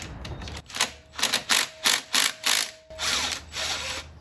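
Ratchet wrench clicking while loosening a 13mm alternator bolt on a V6 Malibu Maxx, a loud run of rapid pawl clicks in quick bursts, close and alone.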